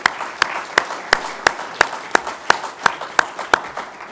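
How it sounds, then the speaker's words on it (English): A small audience at an AWS Public Sector Symposium gives the panelists a round of applause: a single pair of hands claps at a slow, steady rhythm about every third of a second, with softer clapping underneath. "Can we have a round of applause for the panelists?"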